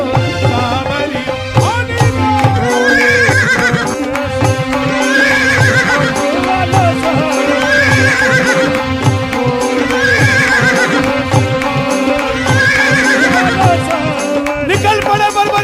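A horse whinnies again and again as a sound effect within a devotional Khatu Shyam bhajan, the neighs rising and falling about every two seconds over loud, dense music.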